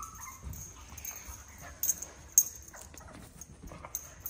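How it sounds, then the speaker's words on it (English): Six-week-old micro mini goldendoodle puppies whimper and yip softly, faint scattered high whines with a couple of sharper squeaks over quiet background rustling. "Puppies."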